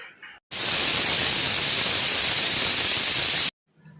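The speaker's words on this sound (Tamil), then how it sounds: "2 விசில் வந்துச்சு." A loud, steady hiss of escaping steam blasts for about three seconds, then cuts off abruptly: a pressure cooker whistle releasing, the second whistle while cooking kuska biryani.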